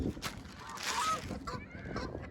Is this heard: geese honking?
yes